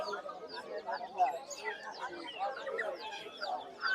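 Chickens, including a native rooster, cluck and chatter in quick, uneven bursts nearby at a market, with possible voices mixed into the busy clucking.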